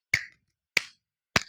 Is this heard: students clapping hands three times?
yes